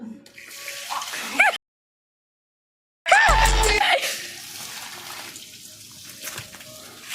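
Water gushes from a tap in loud bursts, cut by a brief silence, then splashes again before fading to a softer trickle.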